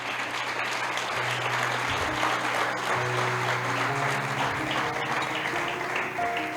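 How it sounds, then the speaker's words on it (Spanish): A church congregation claps steadily in praise during a Spanish-language worship service while sustained organ or keyboard tones hum underneath, with no voices over the clapping. "Dale un aplauso al Señor."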